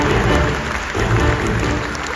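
Steady applause from a pageant audience at the Young Armenian Woman 2025 national event, a continuous dense wash of clapping filling the whole moment.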